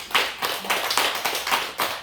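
Church congregation clapping together in unison, a steady rhythm of sharp, fairly close claps at about two per second with no talk over it.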